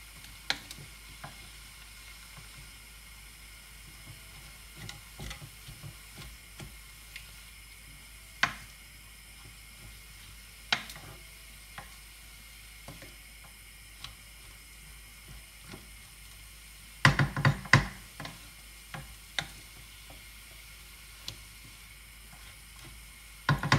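Rice noodles for pad thai stir-fry in a pan with a faint steady sizzle, broken by scattered utensil scrapes and taps and a louder clatter of stirring near the end.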